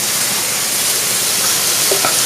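Butter sizzling in a hot pan alongside sautéed mushrooms, a loud, close, steady hiss and crackle that runs unbroken with no talking.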